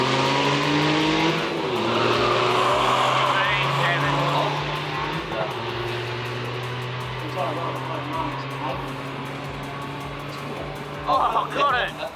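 A Toyota GR Yaris launching in a drag race, its engine revving loudly, then rising through the gears in long accelerating drones, with a voice heard over the engine.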